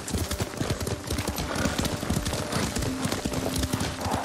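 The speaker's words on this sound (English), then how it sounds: "Lord Sakai taught me to ride a horse" Horse hooves clip-clop steadily at a riding pace in the samurai video game Ghost of Tsushima, mixed with rustling, scattered game sounds and occasional faint voices behind the footfalls.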